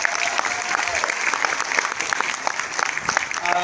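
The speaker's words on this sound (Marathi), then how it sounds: "या नाटकाचे लेखक दिग्दर्शक महेश मांजरेकर सरांसाठी जोरदार टाळ्या व्हायला पाहिजे." A theatre crowd at a Marathi play, Animal, applauds for writer-director Mahesh Manjrekar, a loud, continuous burst of dense clapping from many hands filling the whole stretch.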